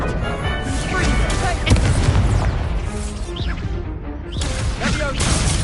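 Confringo blast curses in the video game Hogwarts Legacy burst with booming, crashing explosions amid spell whooshes and battle noise, with a voice speaking over the combat.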